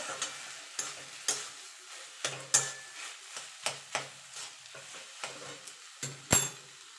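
Grated potato filling for a Bengali vegetable chop is mixed by hand in a bowl: a steady series of soft, close scraping and squishing strokes, roughly one every half second, with no talking.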